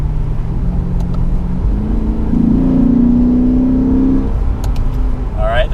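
In manual mode, the V8 of a Lexus RC-F coupe with an 8-speed automatic revs to about 4,000 RPM. A rising, gruff engine note swells over a couple of seconds inside the cabin, then drops back to a steady drone.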